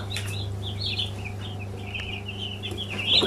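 Young broiler chicks cheep and cluck steadily while being weighed in a rearing pen, high chirps repeating close by over a constant low mechanical hum.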